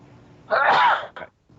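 A single sharp sneeze bursts out in a quiet meeting room, a loud explosive exhale followed by a brief trailing breath, heard fairly close.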